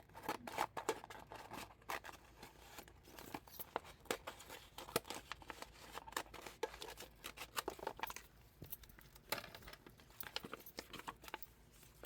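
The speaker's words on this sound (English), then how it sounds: "Let me change scissors." Scissors snip repeatedly through paper or vinyl scraps while crafting resin Easter molds, a quick, uneven series of close, crisp cuts with light rustling between them.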